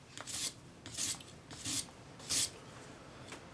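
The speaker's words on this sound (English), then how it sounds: "Go all the way around using the sanding stick, because we want this to be flat." Four rhythmic rasping strokes, evenly spaced, of a sanding stick filing a metal spinner ring flat, close and fairly quiet, with no talking.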